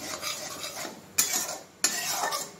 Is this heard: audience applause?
no